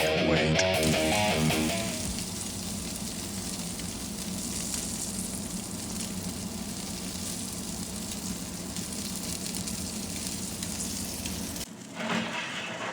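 Thin steaks sear on a Bighorn infrared grill, giving a dense, loud, continuous sizzle with crackling spatter that holds steady for several seconds before cutting off near the end.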